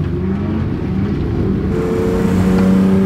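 A car drifts around a track, its engine droning loudly and steadily in a low register with a rising whine toward the end, heard close up with no voices.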